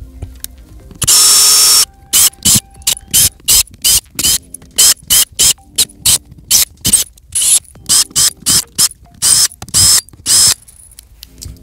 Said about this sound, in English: we're gonna start by removing the screws from the back panel of the crate